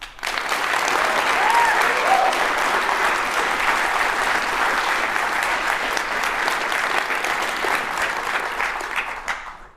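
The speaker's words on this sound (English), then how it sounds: "Big round of applause for Adobe," Audience applause at a conference closing, dense sustained clapping from a large crowd, steady and loud for several seconds before tapering off at the end.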